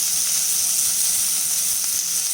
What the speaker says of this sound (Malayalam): ഉള്ളി വാട്ടുമ്പോൾ ഹൈ ഫ്ലെയിമിൽ വെച്ചാൽ മതി, പെട്ടെന്ന് വാടിക്കിട്ടും.